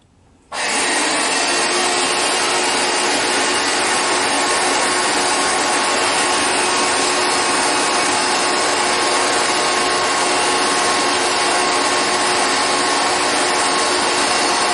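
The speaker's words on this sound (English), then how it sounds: "If I turn the blower on" A forge blower kicks on abruptly and keeps running as a loud, steady whooshing roar with no change in level.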